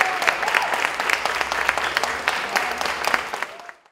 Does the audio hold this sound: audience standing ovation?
yes